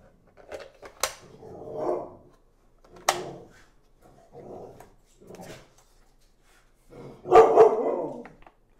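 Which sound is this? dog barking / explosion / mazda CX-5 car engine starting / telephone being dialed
dog barking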